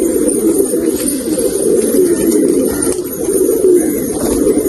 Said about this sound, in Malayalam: അപ്പം നമ്മുടെ എല്ലാ പ്രാവുകളും നമ്മളിതാ തുറന്നു വിട്ടിട്ടുണ്ട് കേട്ടോ